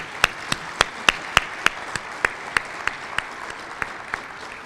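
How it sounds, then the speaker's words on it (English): Applause for the Lieutenant Governor at a Connecticut water week awards ceremony comes as crisp, regularly spaced claps, close and distinct rather than a dense crowd roar. "How about a round of applause for our Lieutenant Governor?"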